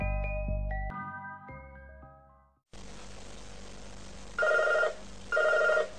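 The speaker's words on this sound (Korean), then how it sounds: "어느 여성의 집으로 전화가 걸려옵니다." A telephone rings in a woman's house: after a few bright melodic chime notes, two loud electronic ring bursts sound over a steady background hiss.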